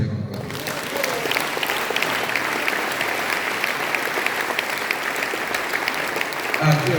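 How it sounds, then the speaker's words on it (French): A church congregation applauds during a Sunday service, a dense, loud, sustained wash of clapping that holds steady throughout, with voices mixed faintly into it. "On acclame le Seigneur encore."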